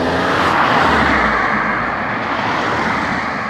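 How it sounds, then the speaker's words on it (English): A car passes close by on a road outdoors, a loud, steady broadband engine and tyre roar that swells and then slowly fades, with no voices over it. "I'm going to let this fucking car go past"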